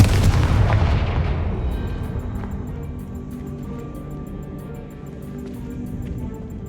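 A Confringo fire spell blast in Hogwarts Legacy erupts as one loud booming burst, then rumbles and decays into a quieter tail with faint sparkling tones.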